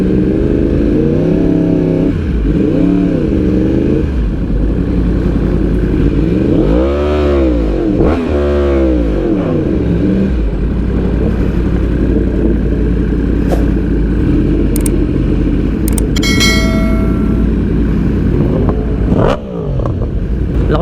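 A group of Yamaha R1 motorcycles fitted with loud Akrapovic, Arrow and AC Project exhausts ride in the Philippines, with loud engines close by rising and falling through revs and passes over about twenty seconds.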